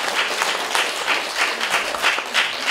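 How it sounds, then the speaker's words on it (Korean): Audience applause for a Korean soprano at a church event, a dense, steady wash of many hands clapping at moderate loudness with no voices over it. "다시 한번 뜨겁게 박수하죠"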